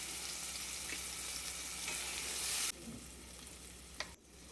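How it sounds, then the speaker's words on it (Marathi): Raw tomato puree sautéing in hot oil with asafoetida and turmeric gives a close, continuous sizzle that drops sharply partway through, as if stirred or moved, then keeps frying more quietly with a brief clink near the end. "कच्च्या टमाट्याची प्युरी केलेली तेलामध्ये छान परतू द्यायचं"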